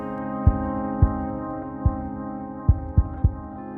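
Heartbeat picked up by a smartphone app through a fingertip pressed over the phone camera: soft, low, irregular thumps over a steady electronic hum, about six beats spread across a few seconds.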